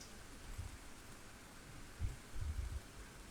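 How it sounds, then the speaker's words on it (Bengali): Rain falls on a rooftop in Dhaka during a hot spell, a faint, steady hiss close by with a few soft low thumps. "এই যে ছাদে বৃষ্টি পড়তেছে, তাই দেখানোর চেষ্টা করলাম।"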